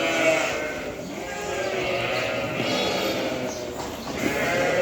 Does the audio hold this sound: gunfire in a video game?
no